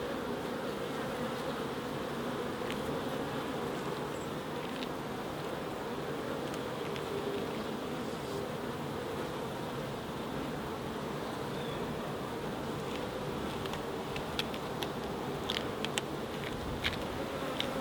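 Honey bees buzz steadily around an open hive outdoors in late-autumn conditions, a dense, continuous drone of many insects close by, with occasional individual bees zipping past the microphone and no talking.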